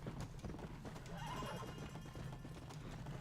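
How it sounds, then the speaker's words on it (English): Horse hooves clip-clop in a quick, continuous rhythm in the Red Dead Redemption multiplayer video game, with a brief neigh partway through, fairly faint but clear throughout. "Get up the hill, you horse"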